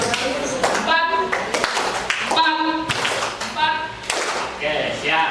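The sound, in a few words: hand clapping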